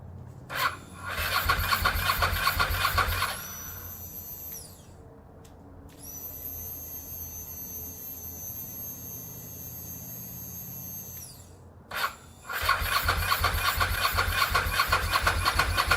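A Ducati 916 motorcycle with its fuel pump outside the tank, mid-rebuild, starts in loud rough bursts at the beginning and end, with a steady high electric whine and quieter idle between.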